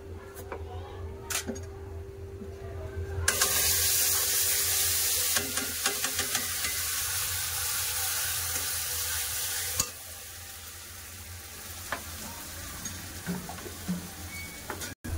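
Water poured from a mixer jar hits hot masala in a pan while making matar paneer, a loud sustained sizzling hiss that drops to a quieter crackle partway through.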